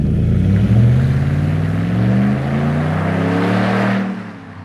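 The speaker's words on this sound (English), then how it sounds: "give your rig that same aggressive sound by installing MBRP's Black Series Catback Exhaust" A 2020 Ram 1500 pickup with an MBRP Black Series catback exhaust revs up close, its deep, loud exhaust rumble climbing and holding for several seconds before dropping away at the end.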